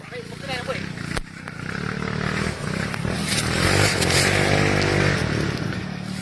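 Several small Yamaha WR 155R dirt motorcycles, three or four of them, ride past with loud, rising engine revs that build and hold near the microphone, while people talk over the noise.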